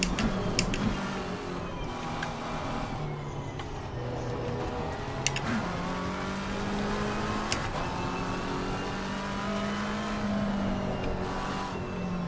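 McLaren GT3 race car in Assetto Corsa Competizione, engine droning steadily with pitch rising and falling through gear changes, near and loud, with brief tire and impact noises, no talk.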